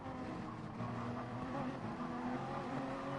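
Race cars in the GT Sport video game drive in close racing, a faint, steady blend of engine drone and tyre noise, with no talking.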